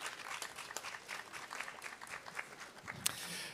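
Audience applause at a youth political event tied to the European Parliament in Latvia, fairly faint and evenly sustained rapid clapping from a modest crowd throughout.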